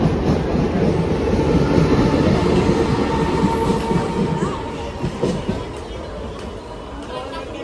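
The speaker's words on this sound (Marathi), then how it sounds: "चला आता आपण पहिले ट्रेन पकडूया." A train runs through a railway station, its wheels clacking over the rails with a brief squeal, loud and close throughout, with faint voices in the background.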